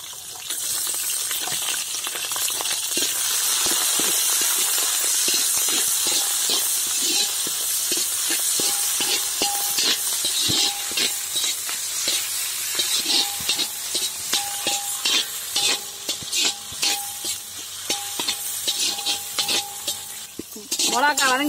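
Curry leaves and green chilies sizzle loudly in hot oil in a pan after mustard seeds have popped, with a constant frying hiss, crackles and metallic scrapes from stirring.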